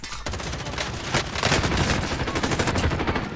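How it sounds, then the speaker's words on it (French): Rapid video-game gunfire crackles in a dense, sustained burst, loud and close, the automatic shots rattling almost continuously from the start to the end. "Oh putain, ça tire mec."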